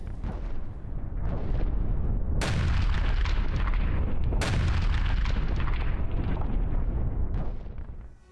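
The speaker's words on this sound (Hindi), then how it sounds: "वोलोदर में रूस का आर्टिलरी हमला, टॉस-2 सिस्टम से बरसाए रॉकेट" Russian TOS-2 rocket artillery firing in Volodar, a continuous heavy roar of launches and blasts with two sharp cracks cutting through, loud and sustained before fading at the end.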